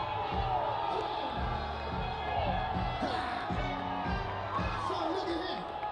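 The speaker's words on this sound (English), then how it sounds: "I'm hearing a lot of roars in the crowd" Crowd at the Florida Panthers championship victory parade on Fort Lauderdale Beach, with loud cheering and whoops over steady thumping DJ music, heard from amid the crowd.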